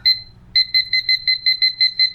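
Small handheld kitchen timer beeping loud and close: one beep, a short gap, then a fast run of about ten identical two-tone beeps in an even rhythm.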